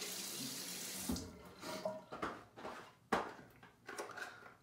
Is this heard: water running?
yes